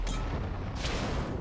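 Tank cannon fire in World of Tanks: two short booming shots in quick succession, sharp and fairly close over a dense low battlefield rumble.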